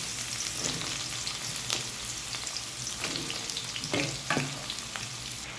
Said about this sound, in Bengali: তার ভিতর সর্ষে ফোড়ন দিলাম একটু, তারপর কেটে রাখা ঝিঙে আলু